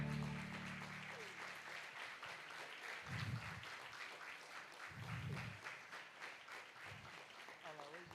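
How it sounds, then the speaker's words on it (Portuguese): A church congregation claps and cheers steadily throughout a service, with a few deep voices breaking through the applause. "Vamos aplaudir Jesus."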